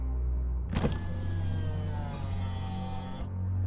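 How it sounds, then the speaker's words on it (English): A car pulls up and stops beside a man at night, with a sustained whirring electric motor sound like a power window sliding down, near and clear over a low engine hum. "He saw a car drive up and stop beside him."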